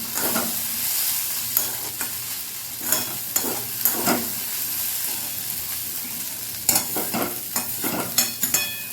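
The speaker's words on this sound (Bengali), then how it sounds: "এখন আবারও নাড়াচাড়া করে দিয়েছি দেখো তলাতে একটু একটু পোড়া পোড়া লেগে যাচ্ছে এরকম করে আলুটাকে ভেজে নিতে হবে" Potatoes fry in a pan with a constant sizzle, broken by repeated scraping and clattering stirs as they are turned, some catching on the bottom, close and without speech.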